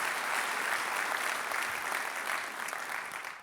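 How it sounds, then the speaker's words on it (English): Steady, even applause fills the room at the Building a Better Long Beach 2019 gathering, then eases slightly toward the close. "Let's give them all a huge round of applause for the work they do."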